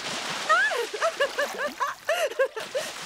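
Cartoon water splashing at the seaside, light splashes mixed with lively animated character voices talking and squealing over them.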